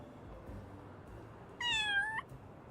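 A cartoonish cat meows once in a video game, a single rising-then-falling call of about half a second, clear and alone over a faint background hum.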